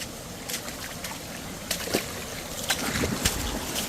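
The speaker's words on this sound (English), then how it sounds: "There's another little waterfall." Small creek waterfall on rural property during Hurricane Helene, a steady rushing trickle and splash of water running continuously at close range, with a few brief brighter splashes and no talking.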